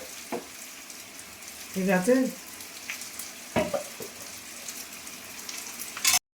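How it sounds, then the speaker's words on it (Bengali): Small fritters frying in hot oil, a soft continuous sizzle with occasional stirring clatter and pops, while someone speaks briefly over it. "এই ভাজা হচ্ছে ছোট ছোট করে।"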